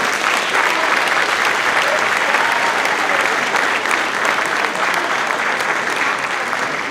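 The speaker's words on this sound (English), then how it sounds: "So let's give them a round of applause, please." An audience at a high school winter concert claps steadily and loudly, a dense, sustained round of applause with no break.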